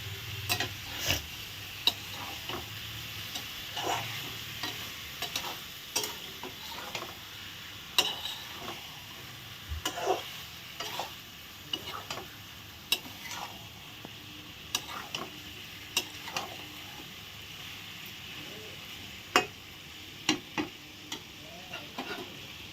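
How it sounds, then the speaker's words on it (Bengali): Soybean chunks stirred and fried in a pan: a soft, steady sizzle runs throughout, broken by frequent sharp spatula taps and scrapes at an uneven pace. "সয়াবিনটা দিয়ে ভালো করে নেড়ে চেড়ে নিচ্ছি"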